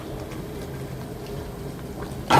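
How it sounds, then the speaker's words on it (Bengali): A pot of mixed vegetable curry boils on the stove with a steady, even bubbling hiss, ending with a short louder surge of bubbling and clatter. "আস্তে আস্তে এখন জাস্ট একটা দুটা বলক দিব নামাই ফেলবো"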